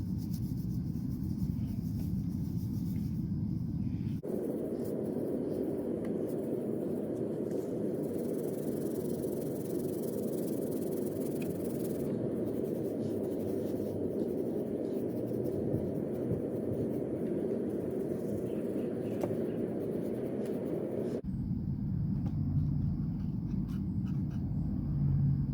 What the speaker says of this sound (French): prendre notre tamis et notre sable vert et on va le tamiser pour avoir le sable le plus fin